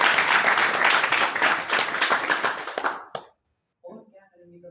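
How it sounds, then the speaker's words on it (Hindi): Audience clapping at a public speaking seminar, a lively burst of many hands for about three seconds that stops abruptly, followed by a short pause and a voice beginning to speak. "इसलिए तालियां दोस्तों"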